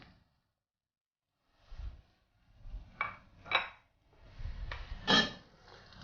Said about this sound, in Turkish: Ve yanmaması için karıştırmaya devam ediyorum.